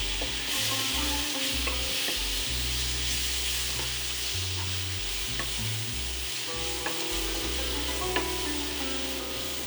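Whole spices toast in a pot for a one-pot brown rice and chickpea pilau while a spoon stirs them. A steady close sizzle runs throughout, with scraping stir strokes and a low background hum.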